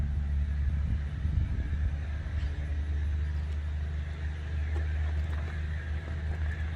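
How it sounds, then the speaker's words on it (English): A loaded truck passes fast along a road, its heavy, steady engine rumble and tyre roar loud and close throughout without fading. "That truck's going awfully fast. He's got a load on him, you can hear it."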